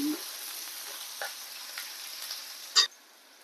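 Chopped small shallots hitting hot oil in a pan for ash gourd curry, a faint steady sizzle with an initial splash and a brief louder crackle near the end.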